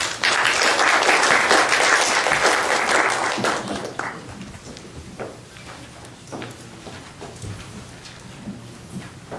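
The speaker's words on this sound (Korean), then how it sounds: "박수로 맞이해 주세요" An audience at a policy debate on a cable car for Jirisan National Park applauds to welcome a professor. Loud, dense clapping lasts about four seconds, then fades to a few scattered claps and quiet room noise.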